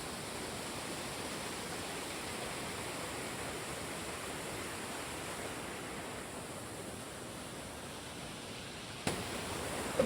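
Rushing stream swollen almost to overflowing after heavy rain, a steady broadband wash of fast water close by, unbroken and fairly even, with a faint brief knock near the end.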